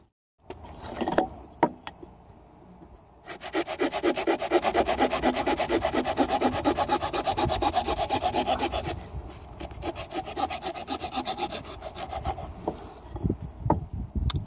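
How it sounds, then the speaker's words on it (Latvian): A small hand saw cuts through a thin willow branch with quick, steady back-and-forth strokes, close and fairly loud, preceded and followed by light handling clicks. "Zāģīt ļoti ātri, ļoti viegli."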